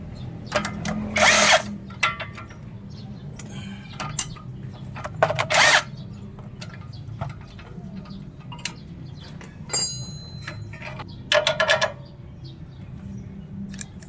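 Several short bursts of an impact wrench loosening the strut mount nuts on a Honda City, three main whirring rattles spaced a few seconds apart over quiet garage background with small tool clicks.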